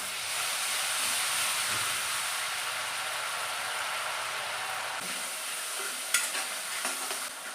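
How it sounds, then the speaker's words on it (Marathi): A coconut-coriander masala paste with red chilli powder and homemade garam masala sautés in hot oil, hissing in a dense, steady sizzle. Scattered spoon scrapes and taps come in the last couple of seconds. "मसाला परतून झालेला आहे. छान तेल सुटलेला आहे."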